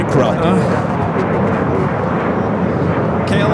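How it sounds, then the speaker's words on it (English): A KLM Boeing 787-10 Dreamliner arriving at LAX from Amsterdam makes a loud, broad, continuous jet roar with steady rumble and hiss that holds for several seconds, with nearby voices talking over it. "KLM 601 coming in from Amsterdam on the 787-10 Dreamliner"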